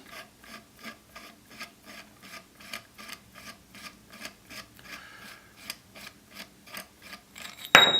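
Baffle removal tool being threaded onto a silencer drive shaft, a quiet rhythmic rasping and ratcheting in even strokes, about two per second, close by, ending with a sharp clatter.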